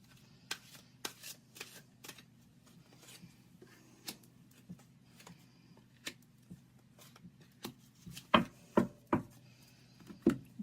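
Psychic Tarot cards being shuffled in a quiet room, with soft riffling and a series of sharp card snaps and taps that grow louder and more frequent near the end.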